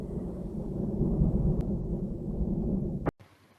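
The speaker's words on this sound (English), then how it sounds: "producing a loud sound called thunder" Thunder from a storm rumbles as a deep, continuous roll that holds steady for about three seconds before cutting off abruptly.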